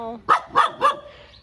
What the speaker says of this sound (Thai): หมดแล้วก็มาเห่าเรา